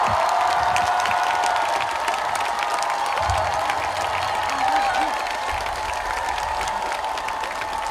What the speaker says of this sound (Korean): 한동훈 전 국민의힘 당대표에게 큰 박수를 보내주시기 바랍니다